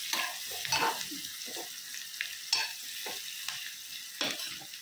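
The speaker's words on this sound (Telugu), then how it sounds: "ఇప్పుడు ఉల్లిపాయ వేగిపోయిందండి" Onions frying in oil with a little turmeric for a carrot egg porutu, a steady close sizzle broken by repeated scraping and stirring strokes of a spatula in the pan.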